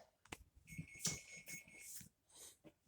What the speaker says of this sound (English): that beep you heard was the temperature of the oven is ready